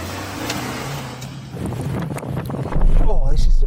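Suzuki Jimny off-road, engine droning steadily with wind buffeting, rising louder toward the end as it pushes on over rough ground, with people talking over it.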